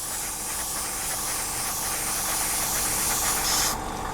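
An airbrush lays a metallic paint coat onto a Tamiya 1/48 scale P-51D Mustang model with a close, continuous hiss of spraying air that holds steady and then cuts off abruptly.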